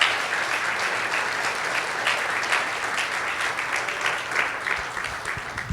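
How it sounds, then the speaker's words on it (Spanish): A church congregation applauds together in steady, sustained clapping that fills the room evenly for several seconds, with no talk over it. "¿Puede aplaudir el nombre del Señor en esta mañana?"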